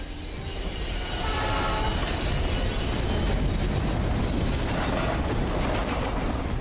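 A train rumbles along the tracks in the video game Life Is Strange, a dense, steady, loud roar of wheels and carriages that holds for several seconds with no speech.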